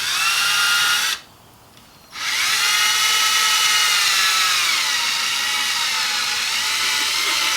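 A power drill bores holes during a TH350 to 200R4 transmission swap on a C10 truck. It gives a loud, steady, close whine that stops for about a second, then resumes and runs continuously.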